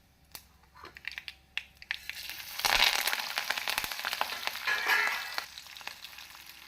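Mustard seeds, pepper, cumin and cashews hit hot ghee and oil for temple-style ven pongal, opening with scattered pops and clinks before a sudden loud burst of crackling sizzle that stays busy and spattering to the end.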